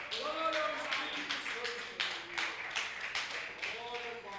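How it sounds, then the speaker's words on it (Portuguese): A church congregation claps during a Portuguese-language worship service, a scattering of sharp, uneven claps mixed with voices talking and calling out over them. "Quem é testemunha disso pode aplaudir o Espírito Santo."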